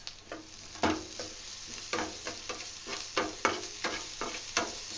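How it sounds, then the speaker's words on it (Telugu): Garlic and pepper paste for a sun-dried mutton fry sizzles in a hot pan and is stirred at close range, with repeated scraping strokes over a steady frying hiss. "సో బాగా ఫ్రై చేయాలి."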